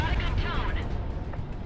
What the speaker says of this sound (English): The shockwave from the explosion.